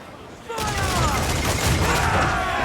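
A ship's cannon broadside in Assassin's Creed 4, a sudden loud roar of overlapping booms that swells into a sustained rumbling barrage, with voices shouting over it.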